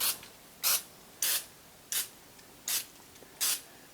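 Light spritzes of oil onto a microwave potato chip sheet, six short, sharp hissing sprays at an even rhythm, close and quiet between bursts.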